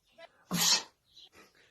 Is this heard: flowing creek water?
no